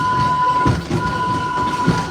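Wildlife Express train at Disney's Animal Kingdom rolling steadily on a rainy day, with a continuous rumble of railcars and a faint steady tone from the track, no talk.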